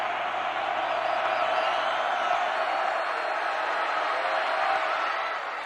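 A stadium crowd roars steadily throughout a 1985 college football game between Alabama and LSU on a third-and-20 play, a dense, sustained wash of cheering at even loudness with a broadcast announcer's voice over it.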